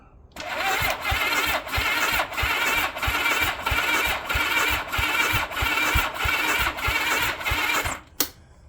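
Honda GL1000 Goldwing engine cranking over on the starter during a compression test with the throttle held open: a rhythmic, loud whirring churn with regular compression pulses for about eight seconds, then it stops with a final click.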